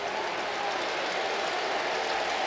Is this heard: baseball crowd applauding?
yes